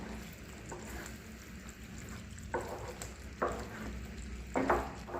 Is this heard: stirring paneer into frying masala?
yes